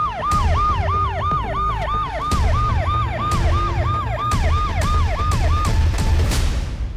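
A police siren in a crime TV drama wails in rapid repeating up-and-down cycles, loud and close, with sharp thumps and clatter scattered underneath.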